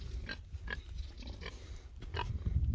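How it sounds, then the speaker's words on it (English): Low, scattered grunts from Wessex Saddleback pigs come in short bursts over a rumbling background, fairly faint and irregular. "Pigs are always hungry, so they make a lot of noise."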